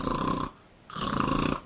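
A voice imitates snoring with two long, rough, nasal snores separated by a short pause, loud and close, with no other talk.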